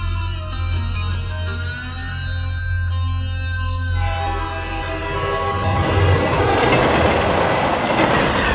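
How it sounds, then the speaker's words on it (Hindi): A train runs along rail tracks with a steady low rumble and rattling carriage clatter, loud and continuous, growing rougher and noisier in the second half. "चल अभी ट्रेन पकड़ते हैं"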